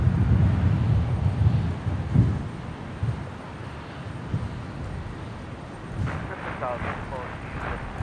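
A Singapore Airlines 236 airliner at Brisbane airport rumbles as a low, distant jet roar beneath people talking, cleared for takeoff from runway 01 right, with a faint crackle of radio chatter near the end.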